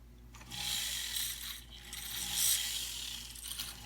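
A small flywheel polisher cleans a jewelry head for a stone setting, giving a continuous whirring, grinding mechanical hum with slight swells in intensity, close and steady throughout, with no talking.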